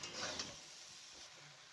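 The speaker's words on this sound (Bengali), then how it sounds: "আবারও ভালো করে নাড়াচাড়া করে মিশিয়ে নেব।" Fried vegetables for Bengali shukto are stirred with a ground paste of white mustard and poppy seed, giving a soft, continuous scraping and sizzling at low volume with a few brighter scrapes early on, no talking.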